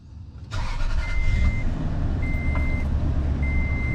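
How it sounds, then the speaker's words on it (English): A first-generation Toyota Tundra pickup cranks and its engine catches at about half a second, then idles loud and steady, with a thin electronic chime tone sounding repeatedly over the running motor. "Turn the truck on."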